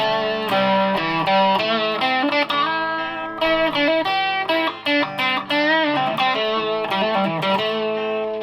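Distorted electric guitar, a Stratocaster-style guitar with the neck pickup blended in, plays a sustained, chord-heavy riff with bright, gritty harmonics, loud and continuous with brief pauses between phrases.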